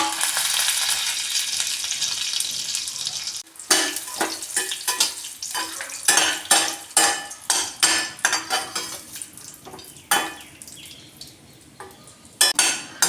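Chopped almonds and raisins roasting in ghee in a pan for a semolina and gram flour halwa, a bright close sizzle broken by repeated spoon scrapes and stirring clatters against the metal.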